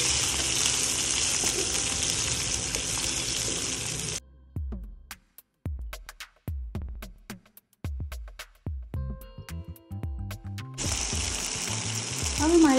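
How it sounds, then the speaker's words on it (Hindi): Chicken pieces sizzle hard in a pan through the opening seconds, then a run of sharp clatters and knocks as the pieces are turned, and a loud steady sizzle returns at the end. "और दोनों तरफ से इसको पलट के फ्राई कर लेना है"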